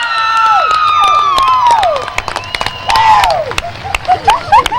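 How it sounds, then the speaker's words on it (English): A crowd at a motor speedway cheers and claps, loud whistles and shouts over scattered applause, close and lively throughout. "Good round of applause for Brianna Ladouceur."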